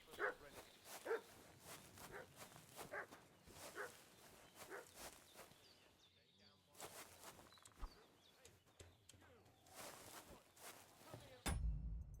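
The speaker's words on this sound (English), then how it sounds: "Rosanna's dog is barking" A dog barks in a medieval video game setting, a series of sharp, spaced barks at moderate distance repeating through the scene, with footsteps and quieter game ambience between them.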